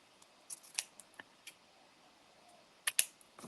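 Quiet, sparse snips of scissors trimming paper for a handmade mixed-media floral card, a few isolated cuts followed by a quick pair of crisp snips close by.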